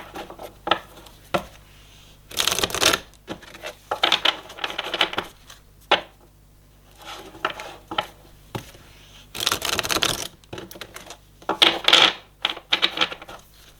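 Tarot cards being shuffled and drawn, with bursts of riffling and papery slapping separated by short pauses, close and moderately loud, without talk.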